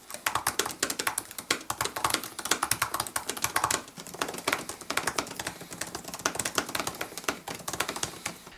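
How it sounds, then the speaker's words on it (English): Fast typing on the third-generation keyboard of a 2018 MacBook Pro 13-inch, a dense run of light, crisp key clicks at close range with a brief pause midway, no talk. "this also changes the clicking tone of the keys"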